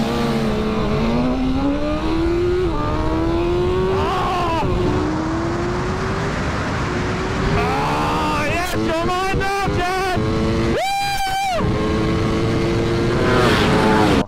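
A Ducati and an Aprilia motorcycle accelerate hard side by side in a roll-on drag test, engines rising in pitch through several gear changes, loud and close with wind rush and voices talking over them.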